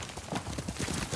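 The horse Kage gallops in Ghost of Tsushima with quick, close clip-clopping hoofbeats in a brief rapid burst.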